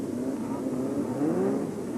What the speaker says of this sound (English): building up the speed, building up the engine's revs, and then letting it go